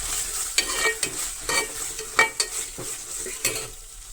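Ginger garlic paste and kasuri methi frying in a pan, with a steady sizzle broken by repeated sharp scrapes and clinks of a spoon stirring against the metal, close and fairly loud, no talking.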